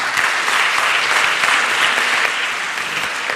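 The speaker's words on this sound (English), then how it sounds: "let us give him another round of applause." Steady applause from a large audience honouring Prof Francis Petersen, dense continuous clapping throughout at a loud, even level without a break.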